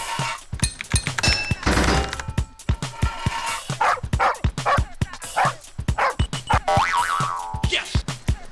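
A cartoonish dog barks over and over in a pipe-fitting video game, in short, loud, punchy yaps mixed with springy boing-like effects and bursts of game sound.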